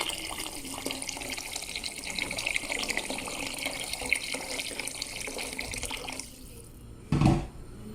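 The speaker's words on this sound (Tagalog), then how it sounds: "Lagyan natin ng tubig." Water pours from a tap into a soup pot holding mushrooms and corn, a steady close gush for about six seconds that stops, followed by a brief louder splash.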